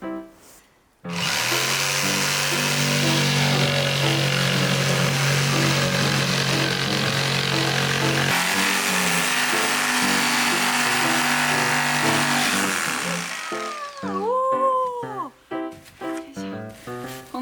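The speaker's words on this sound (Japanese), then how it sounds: "まずは私が前に敷いた断熱材と板に穴を開けていきます。" A power tool drills a hole through insulation and a wooden board inside a cheap used car being converted into a home, a loud, steady whine of about twelve seconds that winds down into short stuttering bursts, close up.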